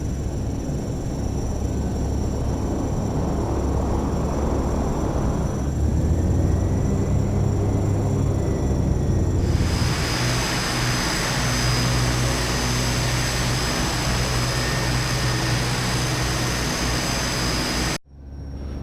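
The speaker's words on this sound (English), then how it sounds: "So both engines are started." A Carenado S360 twin-propeller aircraft in the Prepar3D flight simulator starts its engines, a steady droning hum that climbs and thickens as the second engine lights, then cuts off abruptly at the end; no voices.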